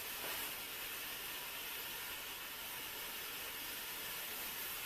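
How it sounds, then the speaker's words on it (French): A Fabiola facial steamer releases steam in a steady, faint, even hiss that runs unbroken from start to finish, with no voices. "Voilà, la vapeur s'échappe."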